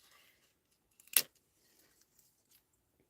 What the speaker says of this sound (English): what I'm going to do is just snip it.